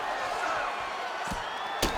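Crowd cheering and murmuring in a UFC mixed martial arts fight video game on PS5, a broad steady arena roar with a couple of sharp thuds of strikes landing, including a louder impact near the end.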